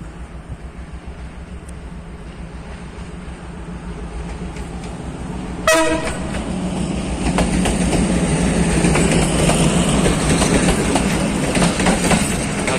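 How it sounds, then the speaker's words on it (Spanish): Argentine Mitre line train hauled by a CKD locomotive passes close by, a sudden loud horn blast followed by rising rumble and clickety-clack of wagons rolling past, sustained and loud to the end. "Me asustó de un bocinazo."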